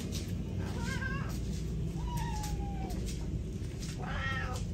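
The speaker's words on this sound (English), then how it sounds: "They're meowing like crazy." Hungry cats meowing for food over shredded lobster, several insistent rising and falling meows close by against a steady low background hum.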